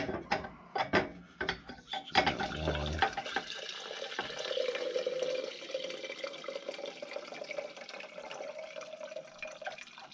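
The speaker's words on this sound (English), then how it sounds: "it's not draining out the way it should because it's airlocked" Water gurgles and drips while draining from an airlocked domestic boiler system, with metallic clinks and knocks from the fittings early on, then a steady hissing trickle.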